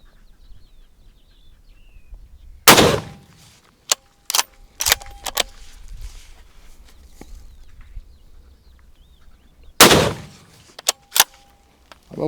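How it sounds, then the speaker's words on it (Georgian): An Istanbul Silah Monza GA .308 rifle fires two loud, sharp shots about seven seconds apart at a shooting range, with crisp metallic clicks of handling between them and only faint background sound. "მესამე გასროლა."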